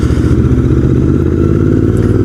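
Royal Enfield Continental GT 650 engine running loud and steady with its throttle jammed open, a constant close rumble of high revs holding without a break.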